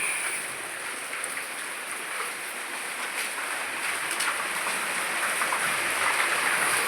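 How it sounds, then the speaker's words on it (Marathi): Light rain falling steadily, a soft even hiss of drops on surfaces, moderately distant and continuous with no talking. "तर पाऊस पण आला"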